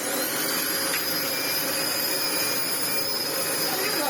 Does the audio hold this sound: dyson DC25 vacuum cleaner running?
yes